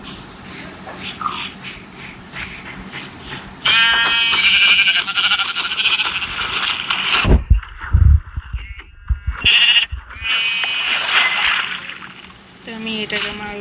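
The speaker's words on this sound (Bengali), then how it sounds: "একটা ভেড়া" Sheep in the video game Minecraft give several loud, short bleats, mixed with other game sounds and brief gaps of quiet.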